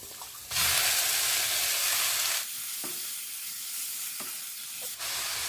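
Marinated pork hits hot oil in a pan for Bikol Express, a loud steady sizzle and crackle running throughout with a few brief clinks of a utensil, no voices.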